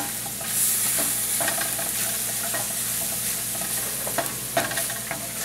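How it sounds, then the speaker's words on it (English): Onions with a tablespoon of vinegar sizzle in a pan at close range, with a steady frying hiss under repeated light utensil scrapes and taps as they are stirred and no talk. "Just stir that around. Flavor the onions."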